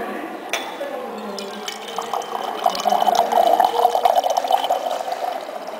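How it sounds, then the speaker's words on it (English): Purified water from a homemade purifier built from natural materials pours out steadily, a continuous trickling and splashing stream that builds up in the middle, with faint voices behind it. "Now here the pure water comes out."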